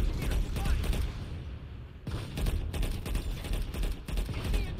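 Rapid bursts of automatic weapon fire crackle in the Planetside 2 video game, dense overlapping shots in a busy fight that sound fairly close and loud throughout.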